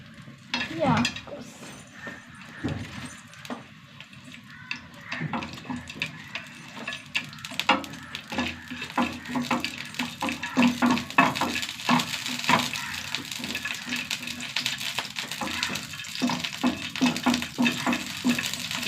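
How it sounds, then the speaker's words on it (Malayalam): Grated coconut frying in a little oil in a pan, a steady crackling sizzle with stirring scrapes and occasional clinks, close and fairly loud throughout. "തേങ്ങ ഒന്ന് വറുത്തെടുക്കുക ഒരു ശകല എണ്ണ ഒഴിച്ച് കൊടുക്കാം"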